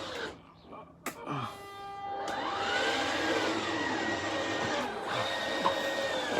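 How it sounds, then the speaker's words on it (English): The electric bunk in a 2015 Thor Hurricane 27K Class A motorhome lowering, a steady motor whine with shifting pitch that follows a couple of clicks, and a voice talks faintly early on. "So if you hold that button, you can lower your bunk down."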